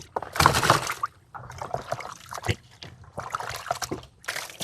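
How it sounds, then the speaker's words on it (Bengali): Rainwater splashes and sloshes over a large eight-kilogram fish head being washed by hand outdoors, coming in irregular close bursts of pouring and trickling with brief quiet gaps. "এতক্ষণ হচ্ছে আমরা নদীর পানি দিয়ে ওয়াশ দিছি, আর এইবার দিলাম বৃষ্টির পানি দিয়ে"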